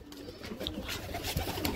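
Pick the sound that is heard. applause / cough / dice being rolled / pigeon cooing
pigeon cooing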